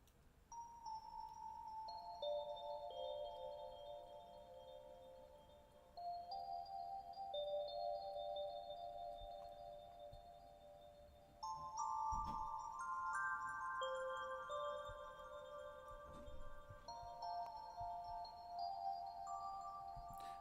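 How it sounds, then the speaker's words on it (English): A soft synthesized bell tone, the Dream Bell preset, plays a slow, gentle melody of sustained chiming notes, quiet and alone. "you can find this preset from under the bell section, the Dream Bell"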